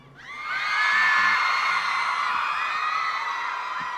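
Fans at a live music show break into a loud burst of screaming and whooping that rises quickly, then holds as a sustained high-pitched crowd roar.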